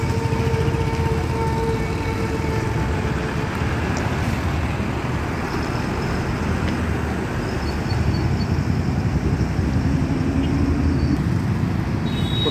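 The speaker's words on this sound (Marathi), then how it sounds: "ही बस आता इथून यू टर्न घेताना दिसत आहेत" A Royal Travels Nagpur-to-Pune AC sleeper bus makes a U-turn at the Amravati Welcome Point bus stop, a steady loud engine rumble blended with roadway traffic noise throughout.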